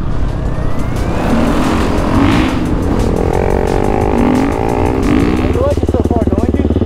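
A Honda CRF450RX 450 dirt bike ridden fast on the trails of Baldy Mesa, its engine roaring loud and close with shifting revs and wind buffeting throughout.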